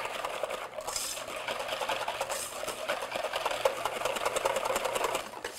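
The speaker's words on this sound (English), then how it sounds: "I'm just going to use a wire whisk." A wire whisk beats cream by hand in a bowl for a blueberry trifle, producing a fast, steady metallic whirring and clicking that continues evenly and fairly quietly throughout.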